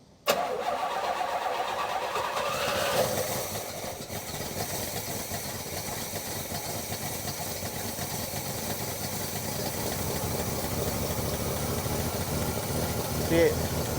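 A 1977 Pontiac Can Am V8 with a leaking accelerator pump cranks and fires up at the start, then settles into a steady, rumbling idle that continues close by for over ten seconds, with people talking over it.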